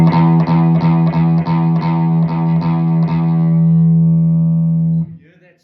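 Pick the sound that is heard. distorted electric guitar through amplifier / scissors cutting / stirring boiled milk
distorted electric guitar through amplifier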